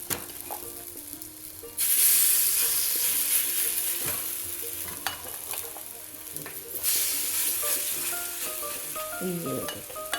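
Pakoras frying in a small amount of ghee, a close crackling sizzle that swells loudly as more ghee is added, with utensil scrapes and clinks throughout.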